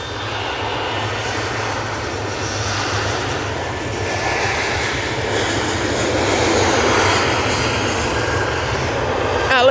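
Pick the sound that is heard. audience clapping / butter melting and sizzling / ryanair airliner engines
ryanair airliner engines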